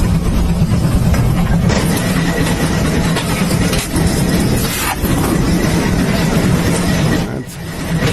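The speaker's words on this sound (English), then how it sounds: "Look at this steam farming tractor." A coal-fired single-piston steam farming tractor engine running nearby, a steady loud chugging rumble with broadband hiss and rhythmic pulses, dipping briefly in places.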